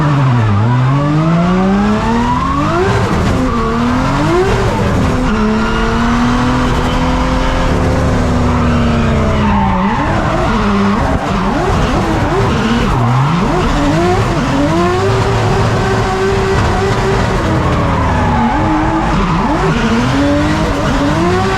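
A McLaren MP4-12C GT3 race car converted for drifting slides with long, loud tire squeals that rise and fall over a roaring, revving engine, continuous and close for over twenty seconds.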